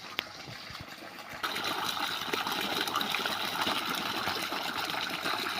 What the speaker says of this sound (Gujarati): જુઓ કેમ મસ્ત મજાનું પાણી જાય છે।